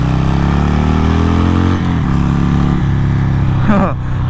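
A leaking Harley-Davidson Sportster motorcycle idles loud and close with a deep, lumpy engine note, then drops briefly and is blipped up in quick revs near the end, with someone talking over it.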